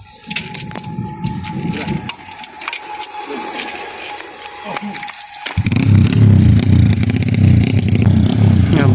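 A trail bike engine at a drag race idles, then revs up loudly and holds a strong, close roar, with a voice talking over the first part.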